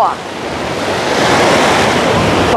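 Stormy Black Sea surf at Anapa with whitecapped waves, a loud steady roar of breaking water and gusting wind buffeting the microphone throughout, with no voices.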